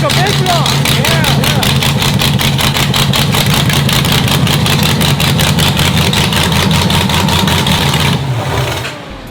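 A loud, close supercharged car engine idles with a heavy, lumpy rhythmic chop, steady throughout before cutting off at the end.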